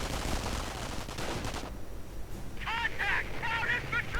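Gunfire and sniper shots in a 1v1 strategy video game, a dense crackle of rapid shots in the first part followed by sharper separate reports, all moderately faint.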